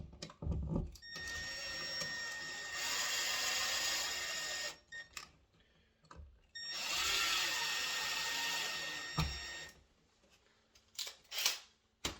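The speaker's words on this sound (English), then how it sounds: "Again, I'll get it ready with this drill." A power drill drives a screw into an outlet box during installation of a USB power outlet, with two sustained whirring runs of several seconds each, separated by pauses and brief handling clicks, heard close and alone.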